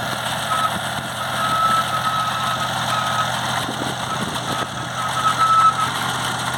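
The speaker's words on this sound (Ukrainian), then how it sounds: "Ну, так працює наша копалка." A homemade two-row potato digger works behind a tractor in a field, with a steady engine drone and a rattling, clanking mechanical hum at moderate loudness.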